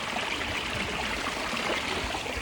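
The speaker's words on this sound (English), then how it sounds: "can you hear this water sound?" Clean water rushing steadily through an outdoor drainage channel, a dense, continuous gurgling flow heard close up with no voices.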